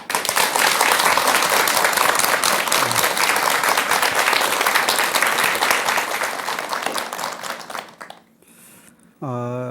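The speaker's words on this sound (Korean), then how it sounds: "여러분, 큰 박수로 스님의 강연 청해 듣겠습니다" An audience at a lecture on suicide prevention applauds to welcome a monk, a loud, dense wash of clapping that holds steady for about eight seconds, then drops away as a voice begins speaking alone.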